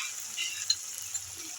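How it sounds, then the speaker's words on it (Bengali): Ginger garlic paste sizzling as it hits hot oil in a pan, a faint steady hiss with a couple of tiny pops, alone and quiet. "এবার দিয়ে দেবো আদা রসুন বাটা"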